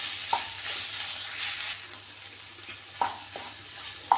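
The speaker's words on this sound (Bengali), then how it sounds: "দিয়ে ধনে পাতাটা ভালো করে মুলোর সাথে মিশিয়ে নেব।" Chopped coriander leaves being stirred into a radish curry in a pan: soft scraping strokes over a low sizzle, with a few distinct spatula knocks against the pan.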